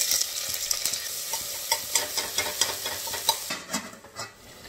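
Onions, bay leaf, cinnamon and cumin frying in hot oil in a home kitchen, a steady sizzle broken by repeated stirring scrapes and clinks, close and fairly loud.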